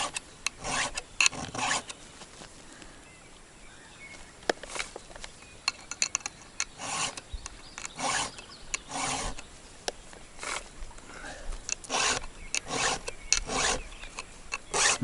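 A hand file rasps rhythmically along a chainsaw chain, sharpening teeth dulled by cutting wood out in a forest; close, scratchy strokes come in repeated bursts with short pauses between passes, and no one speaks.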